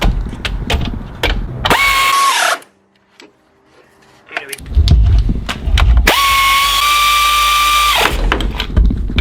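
Power tool driving a bolt into the alternator of a 1989 VW Jetta diesel MK2, two loud whirring bursts of a few seconds each separated by a quiet pause, with clanks and handling noises close by.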